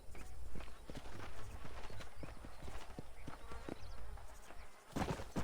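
Horse hooves clip-clop in the Red Dead Redemption video game, a steady run of close, crisp hoofbeats on hard ground continuing throughout with a brief pause near the end.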